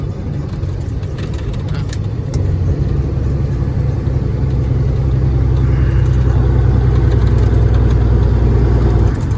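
A car engine runs steadily and loud at close range while a vehicle is driven hauling a small load, a constant low drone with slight rises in pitch and no talk over it.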